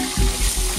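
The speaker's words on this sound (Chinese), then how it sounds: "起锅烧油，把黄鱼啊给它煎一下" Yellow croaker pan-frying in hot oil sizzles in a brief, close hiss, with a few soft low thumps underneath.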